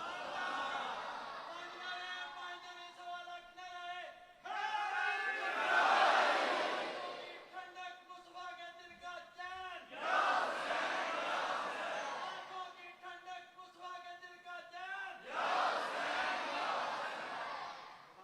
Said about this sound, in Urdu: اے دو نعرے لگے